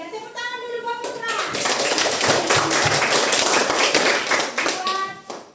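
A group of people clap their hands together in a steady, dense burst of applause that rises after a second and fades near the end, with voices briefly heard at the start and close.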